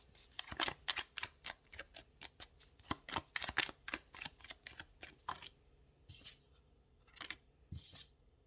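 A deck of tarot cards is shuffled up close in quick, rapid riffles, a long run of crisp flicks followed by a few separate bursts after short pauses, with no talking.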